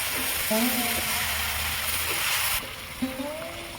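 Raw mango pieces cooked with sugar for pickle are stirred in a pan, a low steady sizzle with soft scraping, while faint tonal sounds like a voice drift in and out.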